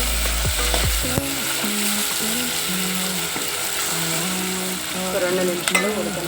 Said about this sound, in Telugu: ఇప్పుడు టమాటా వేసుకోవాలి